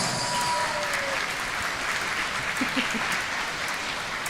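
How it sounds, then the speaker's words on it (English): Crowd applause for a bowler at a bowling tournament grand final in Sarawak, a steady wash of many hands clapping that holds evenly for the full few seconds. "let's give a big round of applause to Ahmad Muaz"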